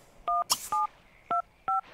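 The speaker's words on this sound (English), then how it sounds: "Alright, Bob, you are still in the bathroom on your phone." A phone is dialed in The Sims 3, four clear electronic keypad tones spaced apart at an uneven pace, with a short bright chime between the first two, all close and prominent.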